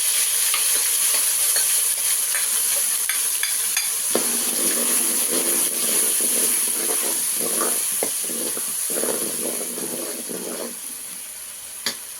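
Onion and garlic paste hits hot oil in a pan for an Andhra tomato chutney, giving a loud, steady sizzle and hiss with stirring scrapes and clinks throughout, no voices.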